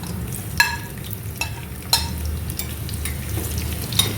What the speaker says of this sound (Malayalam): ഈ ചൂടായ എണ്ണയിലേക്ക് ഏകദേശം ഞാനൊരു 12 ചെറിയ ചുവന്നുള്ളി 2ആയിട്ട് സ്പ്ലിറ്റ് ചെയ്ത് എടുത്തിട്ടുണ്ട്. അത് ഈ ചൂടായ എണ്ണയിലേക്ക് ഒന്നിടുക.